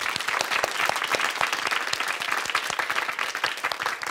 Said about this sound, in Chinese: 好，我们掌声给瑞恩。